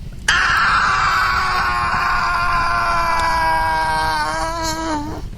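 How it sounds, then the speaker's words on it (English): A man lets out one long, loud, sustained scream that holds steady and then drops away at the end, standing alone over a low rumble. "The murdering thief gave one long scream in the moonlight."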